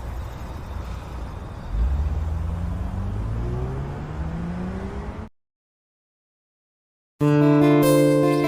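A car driven fast, its engine roaring and climbing in pitch for about five seconds before cutting to sudden silence, then music comes in.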